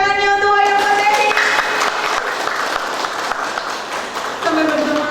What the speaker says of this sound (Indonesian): kami minta tepuk tangannya untuk wayang potehi